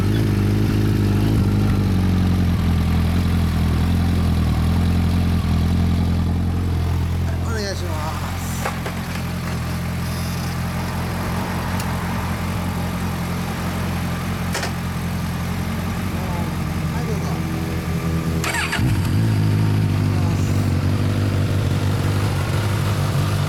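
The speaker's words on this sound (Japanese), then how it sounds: "さっきこっちからエンジンを聞かせてもらうわ" A 2013 Suzuki Bandit 1250F ABS motorcycle engine idles close by with a steady low rumble, and a few brief clicks and knocks sound over it.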